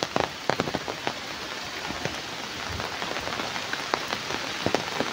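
Steady rain pours down on surfaces in Lopez, a rural town in the Philippines, a dense continuous patter with scattered louder drops close by and no voices.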